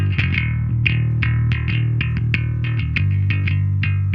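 An isolated live bass guitar track with effects plugins applied, playing a steady run of plucked notes in a driving rhythm, loud and close with a thick, slightly distorted tone.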